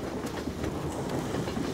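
Train rumbling along in the Roblox game Doors fanmade rooms, a steady low rolling roar with faint rhythmic clatter throughout, no talking.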